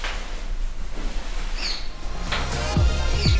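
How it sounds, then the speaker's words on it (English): Birds chirp outside a desert-edge homestay near Jodhpur, Rajasthan, with two brief, high, moderately faint calls over a steady low outdoor hum. "And you can also hear the birds all the time."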